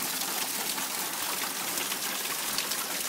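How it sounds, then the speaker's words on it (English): Heavy rain pours down in Las Vegas, a steady, dense hiss of falling water with no pauses or voices. "It's just pouring."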